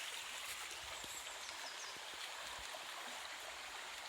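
River water flowing downhill at a low-lying riverside spot, a steady broadband rush with faint trickles and gurgles, continuous and close, with no voices.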